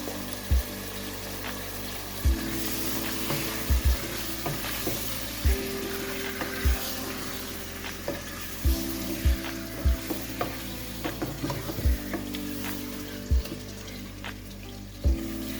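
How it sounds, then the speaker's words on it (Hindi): Chicken and turnips fry in oil in a pot with no water, a steady close sizzle broken by repeated clanks and scrapes of a spoon stirring against the metal. "पहले मैं इनको अच्छे तरीके से भूनूंगी, फिर उसके बाद कवर अप करके रखूँगी पानी डाल के।"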